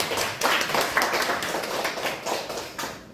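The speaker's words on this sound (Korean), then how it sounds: "우리 박수로 환영해 주시기 바랍니다" A church congregation at a Sunday service claps to welcome three boys, close, fairly loud clapping with a loosely pulsing rhythm that runs steadily for a few seconds.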